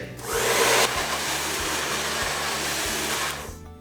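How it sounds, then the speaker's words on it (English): A hair dryer blows hair straight with a loud, steady roaring whoosh and a low motor hum, brighter for the first second and then evening out before it cuts off near the end. No voice is heard. "I'm just gonna blow out my hair a little bit, make it straight."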